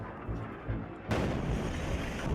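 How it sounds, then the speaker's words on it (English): Gunfire in the Jaramana area on the outskirts of Damascus, Syria: a steady, dull rumble of low booms that jumps sharply louder about halfway through and then holds as a dense, continuous barrage. "Not from dust, but from gunfire."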